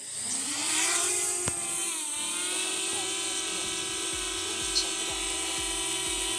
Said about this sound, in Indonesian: drone akan otomatis take off